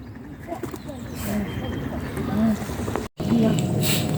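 Birds and ducks gather to be fed in a park, with soft pigeon-like cooing and scattered calls over outdoor ambience and faint background voices; a brief dropout occurs near the end.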